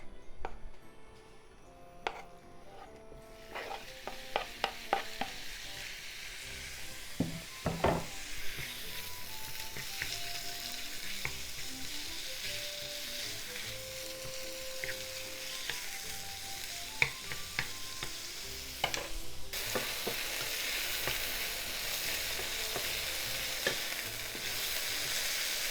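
Steady loud sizzling of chicken frying in a hot pan over medium heat, with a few clinks and scrapes of stirring scattered throughout.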